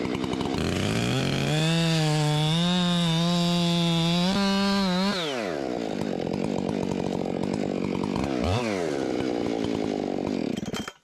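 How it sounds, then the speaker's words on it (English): A fast-cutting, high-compression chainsaw cutting into a tree: the engine winds up to a loud, steady high whine, then drops and bogs as it bites into the wood, rising and falling near the listener with no talk. "I think this is probably my fastest cutting chainsaw"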